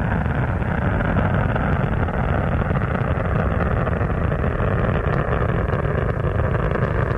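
Space shuttle Atlantis engines on the STS-86 launch thunder steadily, a dense, continuous, loud roar with crackling texture and no pauses throughout.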